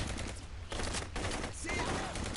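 Rapid gunfire from a first-person shooter played on PS4, dense bursts repeating across the moment with brief gaps, loud and close.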